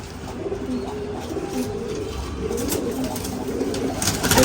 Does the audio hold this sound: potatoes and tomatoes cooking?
no